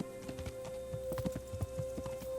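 Horse hooves clip-clop at a steady riding pace in the game Kingdom Come: Deliverance, with soft, evenly spaced thuds over a low background hum.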